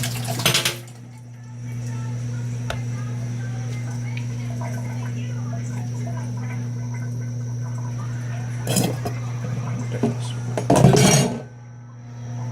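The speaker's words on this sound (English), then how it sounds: "Rinse the spoon out and try it again." A spoon is rinsed under running kitchen water while cooking chicken enchiladas with tomatillo salsa roja. Utensils clink sharply at the start and again near the end, over a steady hum.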